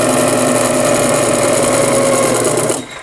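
A sewing machine stitches knit fabric for a dress, a fast, steady mechanical whirr with rapid needle chatter close up, running evenly for a few seconds before winding down to a stop.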